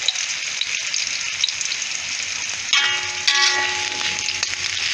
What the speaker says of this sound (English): we just wait for it to fry a bit more before I start adding in the other ingredients